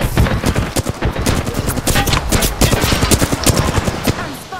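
Rapid, dense bursts of automatic gunfire from an Apex Legends match, loud and continuous with many sharp shots in quick succession, close up and filling the whole stretch.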